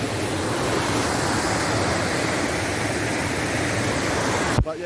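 A waterfall on Hin Lat mountain, Koh Samui, Thailand, rushes as a loud, constant broadband roar heard up close. It is interrupted by a brief knock near the end.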